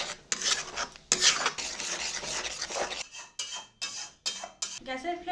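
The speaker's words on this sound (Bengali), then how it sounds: "আবারও মশলা কষে নেব" Spice paste being stirred and fried in a metal pan with cutlery, a steady run of close scraping and rasping strokes, busy at first and then breaking into separate short rubs.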